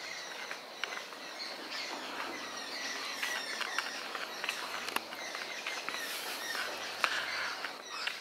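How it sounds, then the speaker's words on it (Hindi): Birds chirp and call repeatedly in a forest at a tiger camp in Jim Corbett, faint scattered tweets over quiet background hiss with no talking. "और चिड़ियों की आवाज़ अगर आप सुन सकते हो,"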